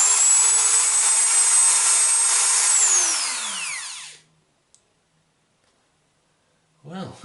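A repaired Dremel 3000 rotary tool runs with a loud, high steady whine for about three seconds, then its pitch falls as it spins down to silence, followed by a brief click and a short spoken word.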